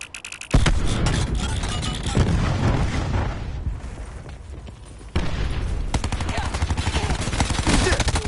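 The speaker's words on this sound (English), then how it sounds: "Cluster grenade going out." A cluster grenade goes off in the video game Call of Duty Black Ops 4, a loud sustained roar of blasts and rapid gunfire fire that eases briefly and then hits again at full strength, close and dense.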